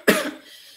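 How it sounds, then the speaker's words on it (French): A single sharp cough from a webinar presenter, close and fairly loud, a broad burst that fades quickly into room quiet with no speech around it. "excusez-moi pour cette toux"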